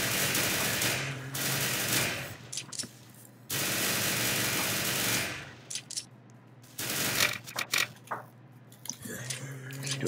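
Glock pistol fire in the zombie shooter game Zombie Zone, dense rapid bursts of shots in long loud stretches, broken by short gaps and scattered single shots.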